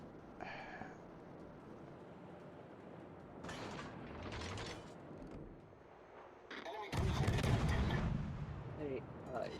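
Naval gunfire from an enemy ship in World of Warships, heavy booming salvos in bursts with a loud blast near the end, heard alongside game noise.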